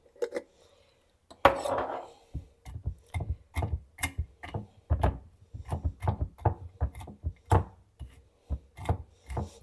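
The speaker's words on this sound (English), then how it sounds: "we're going to chop some nuts. Walnuts are the best." Walnuts chopped with a knife on a wooden board for a salad, a steady run of crisp, close knocks and crunches, about two per second, alone without talk.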